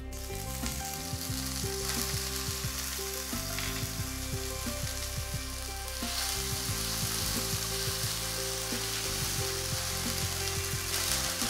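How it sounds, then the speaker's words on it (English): Garlic ginger paste frying in leftover chicken oil and juices, a steady close, loud sizzle and crackle running throughout with occasional stirring scrapes, no voices. "So now in the same oil, I first add in the garlic ginger paste."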